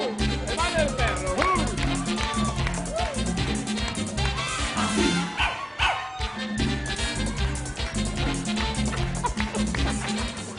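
Dog barks woven into a Spanish children's dance song, recurring yips and woofs riding over loud, busy music with singing throughout.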